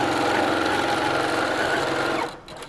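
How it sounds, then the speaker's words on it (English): A sewing machine stitches quilt fabric pieces together with a quarter-inch seam, giving a steady, close, fast-whirring mechanical hum that stops abruptly near the end. "I'll fold it over and then sew these together using 1/4 of an inch seam allowance."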